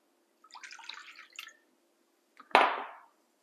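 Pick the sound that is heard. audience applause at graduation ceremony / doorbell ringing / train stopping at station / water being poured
water being poured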